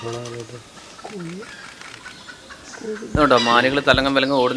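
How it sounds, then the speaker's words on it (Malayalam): Jungle fowl give alarm calls in a forest of a tiger reserve, sharp squawking cries rising loudly near the end, with someone talking over them throughout. "അതുപോലെ തന്നെ ജംഗിൾ ഫൗളിൻ്റെ അലാം കോൾ ഉണ്ട്."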